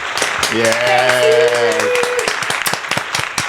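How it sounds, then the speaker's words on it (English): An applause button sound effect fired on a casual podcast, a burst of canned clapping and cheering running under the hosts' voices, with a short bright tonal chime in the middle and people talking over it. "do the applause button"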